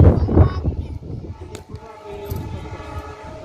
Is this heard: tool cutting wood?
no